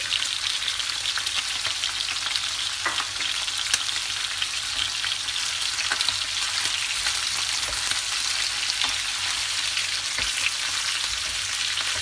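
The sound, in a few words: onion frying in pan for stone-pot dizi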